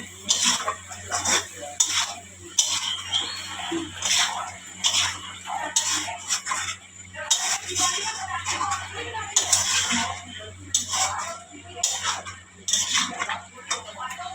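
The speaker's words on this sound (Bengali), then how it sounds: "এবার একটু নাড়িয়ে ঢেকে দেবো।" A spoon scrapes and clinks against a cooking pot while curry is stirred, followed by a lid set on top. The metallic knocks are close and intermittent over a steady low hum, with occasional kitchen clatter.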